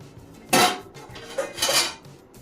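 A metal lid clanks down onto a cooking pot of black-eyed pea curry, a sharp clatter followed by a couple of softer scraping rattles as it settles, close with no talking.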